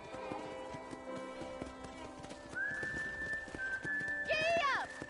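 Horse hooves clip-clop steadily at a ranch in Red Dead Redemption, soft and regular beneath background music, with a horse whinnying near the end and a person speaking.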